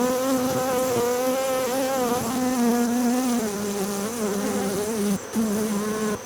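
Honey bees buzzing in an open Apimaye hive, a dense close swarm drone with wavering pitch and layered tones, loud and continuous with no talk.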